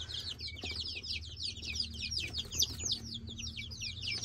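Chickens kept in an enclosure make a busy, continuous chorus of high peeping clucks that overlap without pause. The sound is fairly faint and sits over a low steady background hum.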